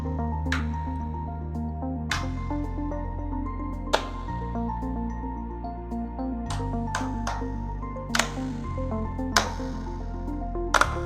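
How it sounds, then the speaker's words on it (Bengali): Clips on the back cover of a Lenovo Tab 4 8 tablet are pried open one by one, giving sharp, separate plastic snaps and clicks at irregular gaps over a low steady hum. "দেখুন ভিউয়ার্স, আমরা এখানে আস্তে করে প্রতিটি লক খুলে নেব।"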